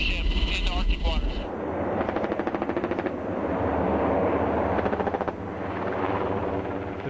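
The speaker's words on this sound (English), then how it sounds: "Here, they're firing blanks." Soldiers fire blanks during an Arctic military training exercise defending an oil installation: rapid bursts of automatic gunfire crackle in quick rhythmic volleys, moderately loud, with a rumbling engine-like drone underneath.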